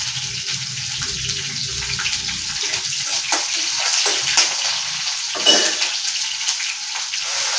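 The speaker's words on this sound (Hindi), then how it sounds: "अब मैं डाल देती हूँ लहसुन और हरी मिर्ची।" Garlic and green chili hit hot oil in a frying pan that already holds curry leaves, giving a steady, fairly loud hiss and crackle that continues throughout, with a few brief louder bursts.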